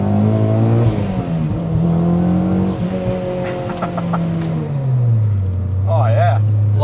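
Supercharged Honda Civic Si pulls hard in second gear, its engine note rising then falling as the revs climb and shift, loud and close from inside the cabin, with a voice talking over it.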